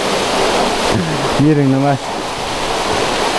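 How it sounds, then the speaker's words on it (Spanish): A waterfall at a rural community's drinking-water source roars as a steady, broad rush of falling water that fills the whole clip, with a voice speaking briefly over it. "Aquí es donde cae el agua, vean. Ahí la famosa cascada"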